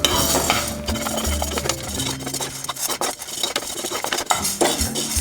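Toor dal dry-roasts in a pan as a spoon stirs it constantly, making brisk scraping and rattling strokes against the metal. The strokes are close and rhythmic, with no voices.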